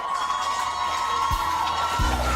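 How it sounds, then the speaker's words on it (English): Crowd cheering and whooping at the St. Thomas coronation show for the Miss Jamaica Festival Queen pageant, a loud sustained roar of many voices with rising shouts, close and dense. "may I hear the applause of one good man?"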